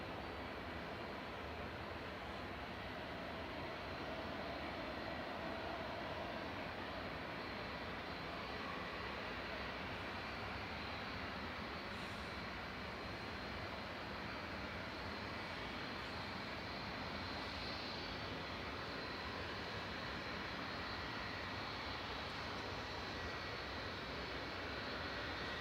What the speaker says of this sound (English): This is a 30-year-old 757-200. Listen to these RB211s spool up.